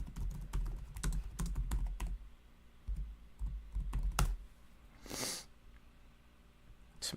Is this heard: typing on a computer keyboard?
yes